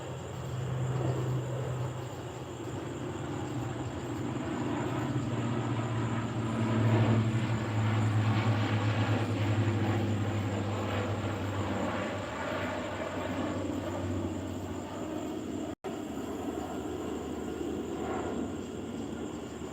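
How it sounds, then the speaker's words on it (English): A United States Air Force C-130 military transport plane passes overhead near Little Rock, its propeller engines a loud, steady low drone that swells and holds for the whole stretch, with no talking. "C-130 flying over compliments of United States Air Force, Little Rock"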